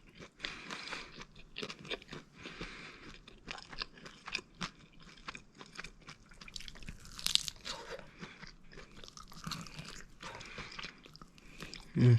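Close, loud crunching bites into crispy Cajun chicken wings, followed by steady wet chewing with irregular crackly bursts throughout, no talking.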